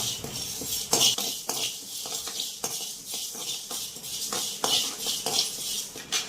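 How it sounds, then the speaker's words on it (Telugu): Toor dal is dry-roasted in a pan, giving a steady stream of close metallic scraping and clinking as a spoon turns the lentils, with no talk. "ముందుగా కందిపప్పు వేసుకొని వేపుకుందాం."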